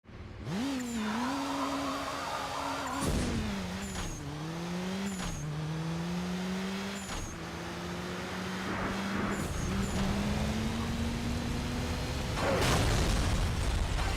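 Car crash and explosion in the racing video game Burnout 3: Takedown, with a steady droning engine running throughout, punctuated by several sharp impact bursts and a louder crashing blast near the end, no voices.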